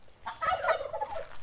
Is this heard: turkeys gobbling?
yes